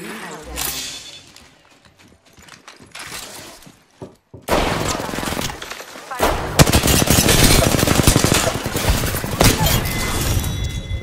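Rapid gunfire from the video game Apex Legends, a sustained loud machine-gun burst with whip-like cracks, following quieter scattered shots and game noise.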